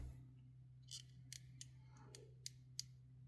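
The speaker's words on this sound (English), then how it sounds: "So I'm going to have to snip it down just a little bit more." Scissors snipping a small part to size during a model car chassis build, a handful of sharp, close cuts spaced irregularly over a low steady hum in a quiet room.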